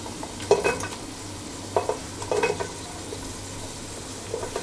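Green beans are being stirred in a pot of frying tomato paste, with a low sizzle and a few short scraping clacks from a utensil that come in bursts. No one speaks.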